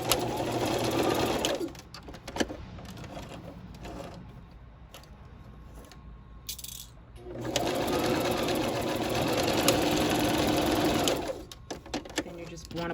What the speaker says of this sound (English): so I'll sew my elastic into place on either end